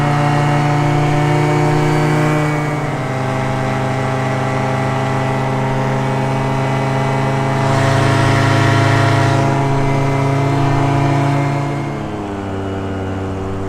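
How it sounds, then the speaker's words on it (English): A paramotor engine drones in flight, loud and close, holding a steady buzzing pitch that surges briefly around the middle and eases back near the end, with no talking. "Thought my engine died for a sec."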